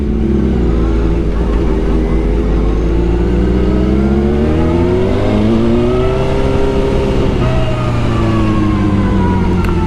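A motorcycle fitted with a Brock's Performance full-system exhaust and Bridgestone Battlax S22 tyres roars loudly and continuously at close range, its engine note rising and falling as it revs and accelerates, with wind noise throughout.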